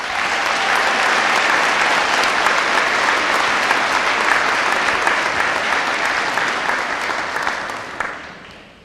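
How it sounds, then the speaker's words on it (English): Sustained applause from a large graduation audience at a high school ceremony, loud and dense for about eight seconds before tapering off at the end, with no speech over it. "Please welcome him to the podium with a big round of applause."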